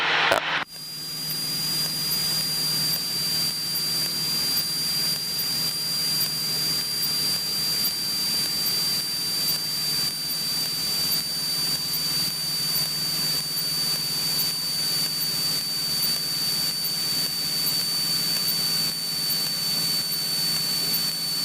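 Steady broadband engine and propeller drone of a Cessna 172 in the traffic pattern during touch-and-go practice, heard from inside the cabin, loud and continuous with a high whine on top and no talk.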